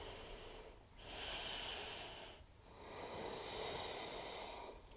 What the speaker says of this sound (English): Deep breathing, inhale and exhale.